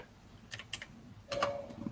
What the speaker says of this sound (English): let me just explain this once I finish typing this out